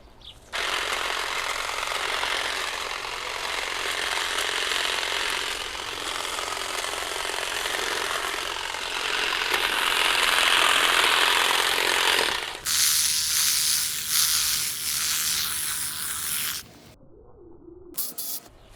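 Cordless hedge trimmer cutting through bush branches outdoors, a loud steady buzzing drone running for most of the stretch, shifting in tone as it bites into wood, then stopping, with birds faintly around.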